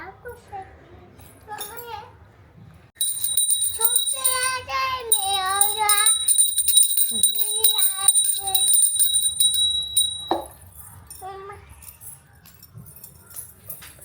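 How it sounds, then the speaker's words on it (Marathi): During a Margashirsha Mahalakshmi puja, a small hand bell rings in a steady, bright, continuous jangle for several seconds, with a child and an adult talking before, during and after the ringing. "आता परत घंटी वाजव"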